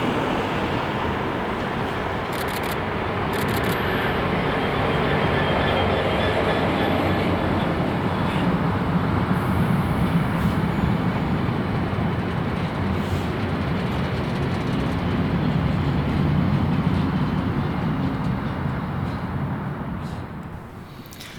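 A Class 66 locomotive hauling the Alstom electrification train rumbles past steadily for a long stretch in Scotland, its rolling roar building and then easing off as it moves away.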